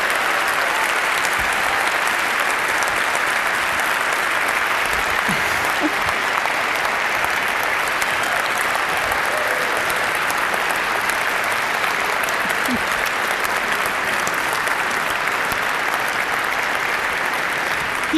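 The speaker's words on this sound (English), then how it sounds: "He does deserve a lot of applause" Steady, dense applause from a large crowd fills the whole stretch at constant loudness, without pauses.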